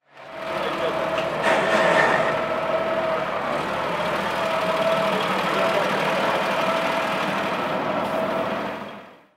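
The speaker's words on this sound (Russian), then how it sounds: "продемонстрировал президенту новые тракторы в работе" New agricultural tractors run in a working demonstration, a steady engine drone with a thin tonal whine, fading in and out, while voices talk faintly in the background.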